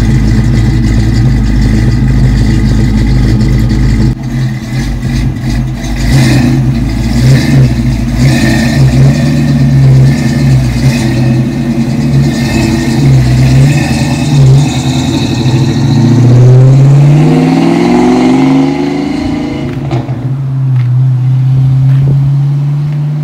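A Ford Mustang heard from outside idles with a deep, loud engine rumble, then revs and pulls away, its note climbing in pitch before fading as it drives off.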